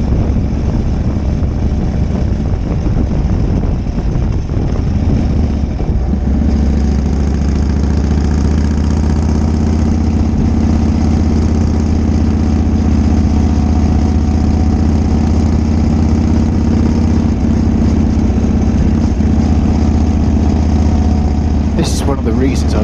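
Harley-Davidson Shovelhead motorcycle engine running with a loud, steady low rumble throughout, close and continuous, with a brief rise in pitch near the end.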